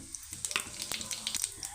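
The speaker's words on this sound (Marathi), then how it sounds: "जिरं तडतडलेलं आहे" Cumin seeds crackle in hot oil in a kadhai, giving short sharp pops over a soft steady sizzle, close and fairly quiet.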